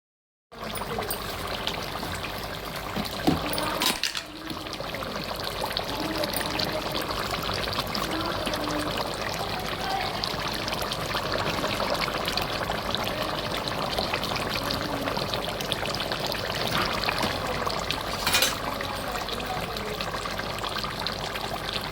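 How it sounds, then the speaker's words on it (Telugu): Water pours steadily into a large pot of chicken curry, making a continuous, close, fairly loud rushing stream with a brief dip partway through and no talk over it. "ఇప్పుడు దీంట్లో వాటర్ పోసుకోవాలండి"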